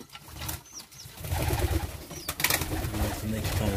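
Pigeons just brought inside a loft coo softly and repeatedly, low rolling calls close by amid rustling and a few faint chirps.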